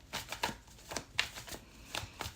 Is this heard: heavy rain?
no